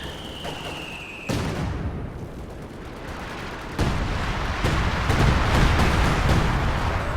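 Time-on-target artillery barrage hitting a German Pak 43 anti-tank gun in a strategy game, heavy shell blasts landing in sequence with a dense roar of explosions and debris that builds louder toward the end.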